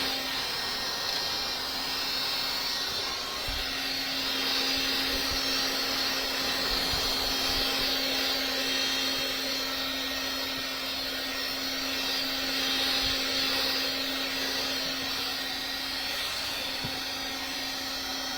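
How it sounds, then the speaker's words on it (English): Heat gun running at a shirt and jean jacket printing station, a steady airy blower hum with a faint tonal whine, continuous and unchanging throughout, moderately quiet and heard alone. "Takes this heat gun a hot second to cool down."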